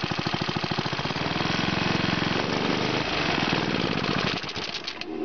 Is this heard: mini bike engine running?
yes